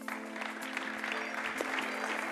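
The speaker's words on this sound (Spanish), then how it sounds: "Un aplauso para ellos." An audience applauds at a Madrid football federation award ceremony with a brisk, even burst of clapping from a mid-sized room, heard alone and without talk.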